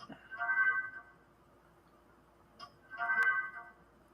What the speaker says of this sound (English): I think your phone is making noise again.